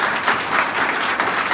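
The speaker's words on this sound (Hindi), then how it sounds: "एक बार जोरदार ताली हमारे साथ।" An audience bursts into hearty applause at a Hindi-language AWPL business meeting, with dense, steady clapping from a full room that holds throughout at a fairly loud level.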